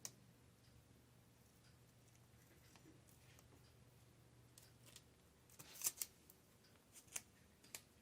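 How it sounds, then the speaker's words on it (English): Scissors cut around a paper flag in a quiet room with a few faint snips early, then several sharper, closer crisp snips in quick succession near the end. "I'm going to cut around the flag."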